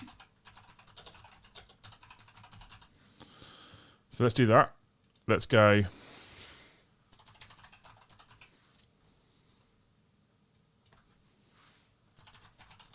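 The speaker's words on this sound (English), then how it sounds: "Excuse me, typing." Rapid clicking keystrokes on a computer keyboard, close and steady, pausing while someone speaks briefly, then resuming in short bursts.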